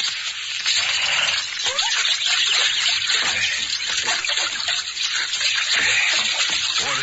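Water from a water hole pours and trickles into canteens, a steady, continuous splashing gurgle close by, with no talking.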